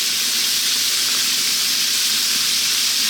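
Pork stir-frying in a very hot pan as ginger goes in, a loud, steady sizzle with bright spitting hiss holding evenly throughout, close and alone.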